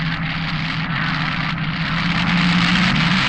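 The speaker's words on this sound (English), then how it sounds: "Semifinal, top fuel, Clayton Harris and Jeb Allen" Top fuel dragster engines at a 1972 semifinal drag race, a steady loud broadband roar with a low droning hum, continuous and fairly distant, with no speech over it.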